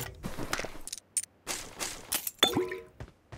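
Gunfire in the battle royale game PUBG Mobile: scattered sharp, fairly faint shots and bursts crack at irregular intervals, with brief quiet gaps between them.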